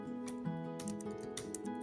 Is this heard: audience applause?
no